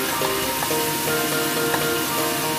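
Chicken curry sizzles steadily in a pan as it is stirred, a continuous close frying hiss with faint scraping, no voices.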